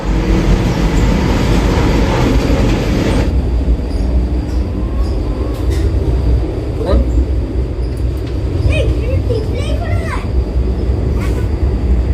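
Loud, continuous rumble and rattle of the Mumbai–Goa Vande Bharat Express running, with clattering wheels, faint squeals and distant voices mixed in.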